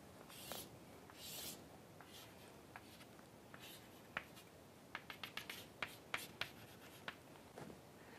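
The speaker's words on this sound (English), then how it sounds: "I am just drawing the same plot again" Pen or marker scratching and tapping on a board while a plot is drawn: faint, irregular strokes and sharp little ticks, quiet and close, with no speech.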